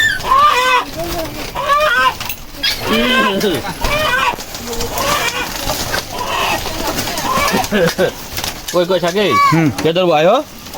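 A red hill rooster of about three kilograms, kept in a hill village in Bangladesh, gives wavering calls near the end, mostly buried under steady nearby talking.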